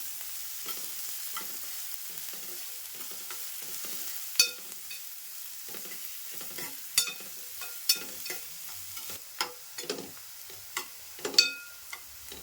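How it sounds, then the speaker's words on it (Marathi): Onion and garlic frying in a pan, a steady faint hiss under a series of light, irregular spatula clicks and taps that grow more frequent toward the end. "कांदा आणि लसूण जरा भाजले व्यवस्थित असे"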